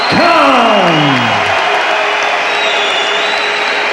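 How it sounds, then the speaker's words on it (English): A loud boxing crowd cheers and applauds as Amir Khan is announced the winner over Baz Carey, a dense, sustained roar with a brief falling whistle-like tone at the start. "the crowd give Amir Khan his due acclaim"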